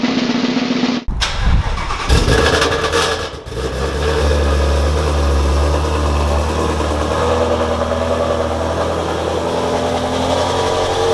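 A McLaren 570S supercar engine fires up with a sharp burst, then settles into a loud, deep, steady rumble that holds close and constant after a few quick revs.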